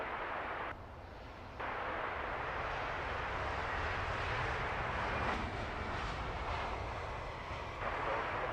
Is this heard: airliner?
yes